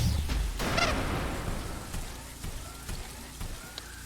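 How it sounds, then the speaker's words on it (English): Hail hammers a base during a storm in The Riftbreaker, a dense rattling patter of impacts with a few sharper knocks, fairly loud and continuous without any speech. "A hailstorm is damaging our base."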